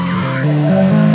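Car drifting in Need for Speed ProStreet, a loud, close tire squeal over a stepped engine whine, continuous through the brief moment.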